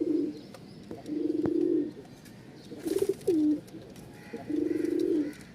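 Pigeons in a loft of newly acquired birds coo in several separate low, throaty bursts, fairly close and clear over a quiet background.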